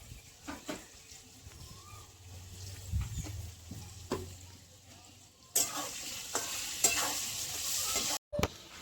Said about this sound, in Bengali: একটু লবণ দিয়ে ভালো করে ভেজে নেবো আলুগুলো